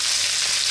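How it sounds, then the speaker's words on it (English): Kidney beans going into a hot frying pan with other stew ingredients, giving a steady, close, bright sizzle that holds evenly for under a second. "Now we're going to drop in our beans, our kidney beans"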